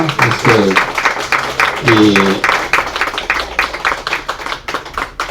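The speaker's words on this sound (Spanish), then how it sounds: "un aplauso para Ricardo" Audience members clap for Ricardo at a local history group meeting, a close, moderately dense round of hand claps with voices speaking over part of it.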